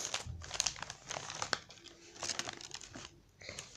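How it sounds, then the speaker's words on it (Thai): Paper parcel packaging being unwrapped up close, with repeated crinkling and tearing bursts in irregular rhythm, fairly quiet with brief pauses between handfuls. "เดี๋ยวเรามาแกะกันเลย"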